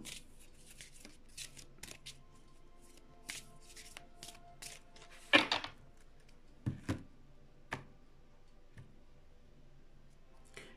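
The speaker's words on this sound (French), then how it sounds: "j'ai envie de juste sortir une carte de l'oracle" Oracle cards shuffled and drawn from a deck, giving faint papery rustles and a few sharp flicking snaps in a quiet room, with no talking.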